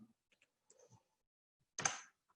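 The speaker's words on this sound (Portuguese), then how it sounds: "É o teclado aqui hoje." Sparse computer keyboard clicks, a few soft scattered taps followed by one louder clack near the end, quiet and close in an otherwise silent room.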